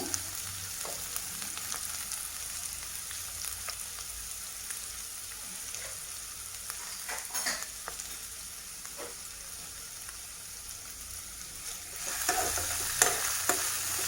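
Onions sizzle and crackle steadily in a hot pan, with occasional clinks and scrapes of stirring, growing a bit louder near the end.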